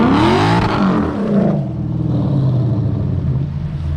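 Lexus IS F fitted with a loud aftermarket exhaust, revving hard up and then dropping back to a deep, rumbling idle, loud and close.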